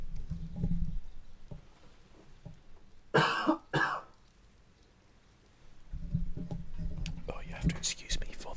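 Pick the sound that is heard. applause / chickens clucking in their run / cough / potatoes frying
cough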